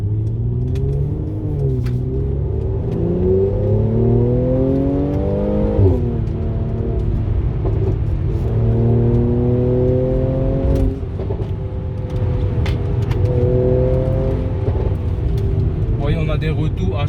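A Mercedes C450 AMG (C43) drives through the city, its engine rising and falling through repeated accelerations and gear changes under a steady road rumble, while someone talks over it throughout.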